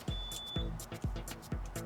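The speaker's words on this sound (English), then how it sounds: "once you hear those beeping noises" Faint electronic beeps from a lab power supply, set near 1800, repeat at a steady pace of about two per second, over low rhythmic thumps and a quiet background hum.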